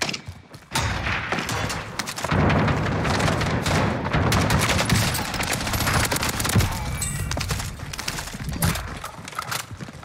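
Rapid, sustained automatic fire from the FFAR 1 rifle in the video game Warzone, a dense, loud stream of close shots that runs almost continuously for several seconds, with scattered distant pops and thuds around it.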